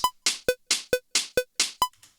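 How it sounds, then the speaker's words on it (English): Crisp hi-hat ticks spaced evenly on the offbeats, each paired with a short tonal blip, repeating steadily with no other instruments, in a drum pattern. "So we've got a main offbeat hi-hat here, which is just ticking through something like this."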